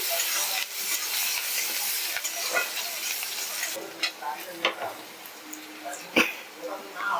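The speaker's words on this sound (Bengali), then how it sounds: "শুকনো লঙ্কা আর পেঁয়াজ একটু ভালো করে ভেজে নিচ্ছি" Dried red chilies, nigella seeds and finely chopped onion fry in oil, giving a steady sizzle with scattered stirring scrapes and clicks, then quieter, more broken crackle with sharp spatula knocks.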